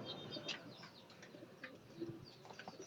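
A racing pigeon arriving home coos softly at a distance, with faint chirps and low background noise throughout.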